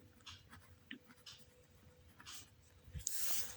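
A math solution being written on a board gives faint, intermittent scratching strokes with short pauses between them and a slightly louder scrape near the end, quiet and without talk.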